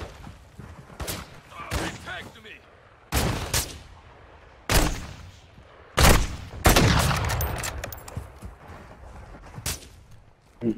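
Bursts of gunfire ring out in Warzone 2 DMZ, several sharp volleys spaced a second or two apart with longer rattling echoes, while a player talks faintly in between.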